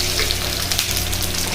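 Curry leaves sizzle in hot oil for sambar, a steady dense crackle and hiss of frying close by, constant throughout with no pauses and no talking.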